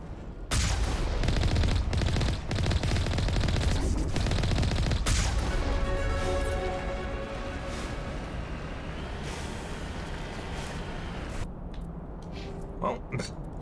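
Rapid gunfire from a firefight in the video game Mass Effect, loud sustained bursts of shots and booms that fade into a lower-level background of scattered fire and effects, with a voice talking over it.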